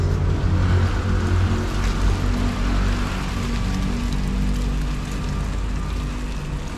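Water pours in a heavy, steady rush into a strainer resting on a chopping board, a continuous loud splashing drain that fades slightly toward the end.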